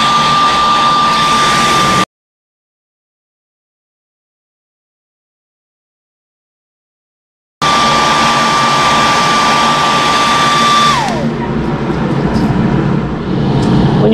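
A fan runs loudly as a steady broadband whoosh with a constant tone, cutting out to silence for several seconds before resuming, then shifting pitch and easing off toward the end.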